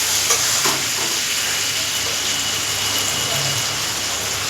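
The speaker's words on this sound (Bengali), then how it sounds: "কচুরগাছি আর আলুটা কিন্তু ভাজা হয়ে যাবে" Potatoes and taro stems fry in hot oil in a pan, giving a dense, steady sizzle throughout with a few stirring scrapes and no talk.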